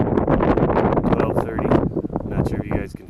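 Loud, continuous wind buffeting the microphone on a sheep hunt, rumbling and gusting throughout with a person talking over it.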